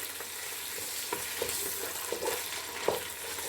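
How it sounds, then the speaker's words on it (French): Tomato cooking in a pan of oil for rice, a steady soft sizzle with occasional small pops and crackles, no voices. "On laisse cuire le tomate"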